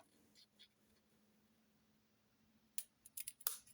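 Scissors snipping off the protruding paper corners during a bookbinding craft, a few quick faint cuts clustered at the end after near silence.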